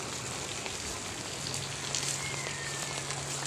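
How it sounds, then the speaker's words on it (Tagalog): Steady rain falls outdoors during Typhoon Enteng, a continuous dense patter of drops hitting surfaces, moderately loud and close, with no voices over it. "Ayan, mahina ng ulan."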